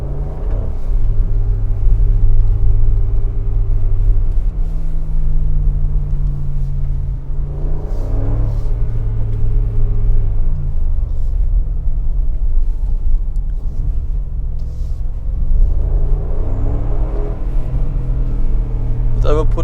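The V8 of a Mercedes G500 AMG in sport mode, driven on a snowy trip, rumbles loud and close, revving in three rising sweeps that swell and drop back between deep, steady idling stretches.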